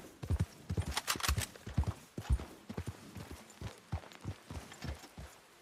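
Horse hooves clip-clopping at a steady trot in the video game Red Dead Online, a brisk even rhythm of close, clear hoofbeats that eases slightly toward the end.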